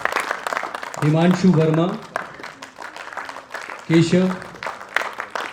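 Audience applause at a stage play welcomes the actors, a steady wash of clapping heard beneath a man announcing names over a loudspeaker.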